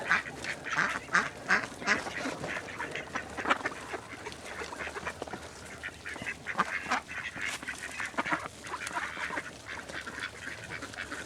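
Many Indian runner ducks quacking loudly and continuously, overlapping calls in a busy, noisy chorus close by, with no talking.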